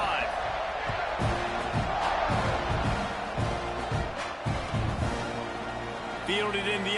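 Video-game stadium crowd in an NCAA college football Texas A&M versus Miami game, a steady roar of cheering that swells and whoops throughout, with sharp thuds and game sound effects and a commentator talking over it.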